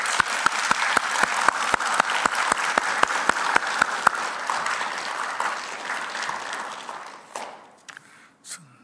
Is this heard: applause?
yes